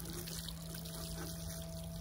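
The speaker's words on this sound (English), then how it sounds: "water my seeds." Water trickles and pours steadily onto freshly sown salad-leaf seeds in a garden, a soft continuous splashing close by with no talk.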